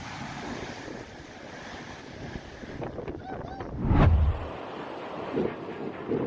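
Ocean waves during Typhoon Yagi surge against the shore under heavy wind buffeting, one big crash swelling loud near the middle before receding into churning surf.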